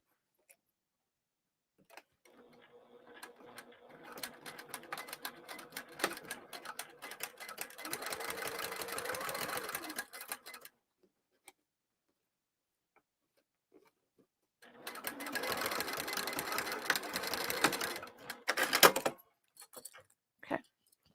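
Sewing machine stitching along the bottom of a fabric bag in two bursts of rapid needle chatter, a longer run and then a shorter one, separated by a quiet pause, faint and close.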